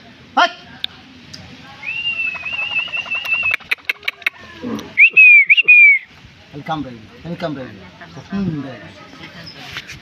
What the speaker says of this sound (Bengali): এই যে একটা শিকারি ডাক পাখি